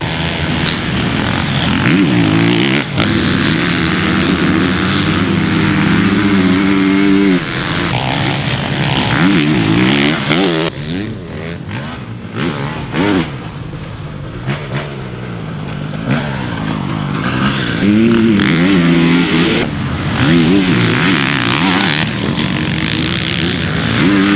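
2022 Honda CRF450R dirt bike ridden hard off-road, its loud engine constantly revving up and down through throttle bursts and shifts for the whole stretch, with no speech over it.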